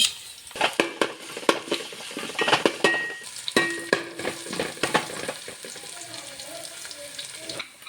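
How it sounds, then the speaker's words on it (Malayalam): Chopped ginger, green chilli and garlic sizzle in a hot pan for lemon pickle, with stirring scrapes and clinks of a utensil against the pan throughout, close and fairly loud. "അതിലേക്ക് നമ്മൾ നേരത്തെ മുറിച്ച് വെച്ച ഇഞ്ചി പച്ചമുളക് വെളുത്തുള്ളി ഇടുന്നു"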